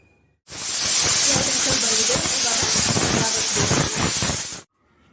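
A kitchen pressure cooker of rice and pigeon peas lets out one loud, sustained rush of steam through its whistle for about four seconds. It starts and stops abruptly, with near silence on either side.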